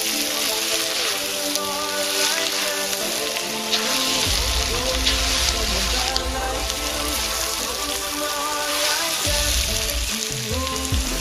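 Bull testicles and mushrooms frying together in a pan, a steady close sizzle like rain with light stirring, with no talk over it.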